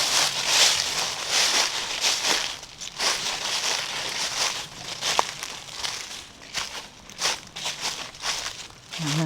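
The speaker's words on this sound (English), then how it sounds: "But what a beautiful sound of fall, crunching through the leaves." Footsteps crunch through dry fallen autumn leaves on a hike to Slipper Lake, a run of close, uneven crackling steps with brief quiet gaps between them.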